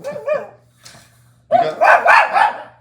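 A dog named Daisy barks loudly and close, a short yelp followed by a rapid, forceful string of guard barks, with no talking over it.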